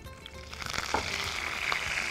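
Fennel seeds and curry leaves crackling in hot oil, a continuous close sizzle with scattered pops, no voices.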